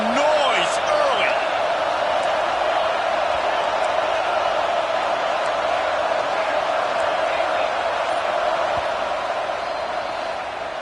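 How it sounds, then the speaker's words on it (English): A large stadium crowd at a Virginia Tech versus Georgia football game roars in a steady, loud, continuous wash of cheering and shouting that holds for the whole span with only a slight easing at the end. "This crowd bringing the energy and noise early."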